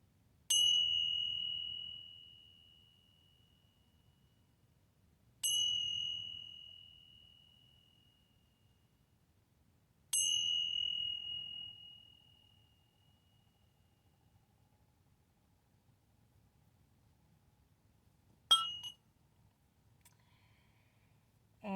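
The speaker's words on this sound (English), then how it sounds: "So today I want to start with some bells." A small bell rings three times at even intervals, each clear ding decaying slowly into quiet, followed later by a softer, shorter strike and a click.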